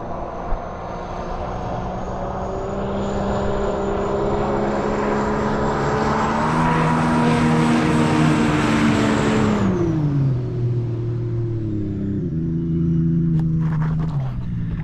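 Sea-Doo GTX Stage 3+ jet ski with a Calas Performance tune accelerating hard at speed, its engine whine climbing in pitch and loudness to a peak, then dropping off as the throttle eases, close and alone.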